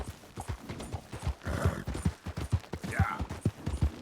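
Horse hooves clip-clop in a steady, rapid rhythm through Red Dead Redemption 2 gameplay, with scattered gunfire and brief game sounds layered over the galloping.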